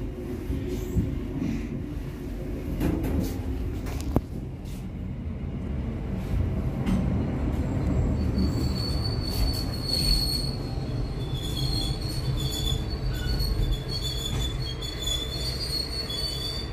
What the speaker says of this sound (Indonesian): Kereta api komuter lain yang saya naiki masuk stasiun Gede Bage.